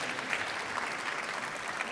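Steady applause from a conference audience at a technology talk, a dense continuous patter of clapping throughout at moderate distance, with no voices over it.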